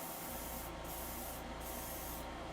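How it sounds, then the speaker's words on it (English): An airbrush sprays primer onto plastic model kit parts, a continuous close hiss of air with quick sprays starting and stopping at intervals, and no voices. "Most of these will not need a lot of primer. Just quick sprays."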